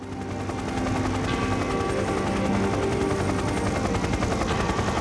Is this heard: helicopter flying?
yes